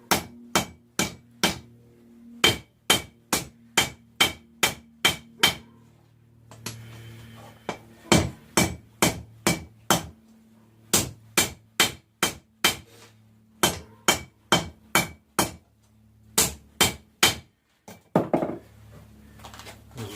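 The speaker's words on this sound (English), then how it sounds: "What I'm going to do is draw this out a little bit, bring it out into a taper." A hammer draws a farrier rasp into a taper on the anvil, with loud, close, ringing metal blows coming in steady bursts and short pauses between them.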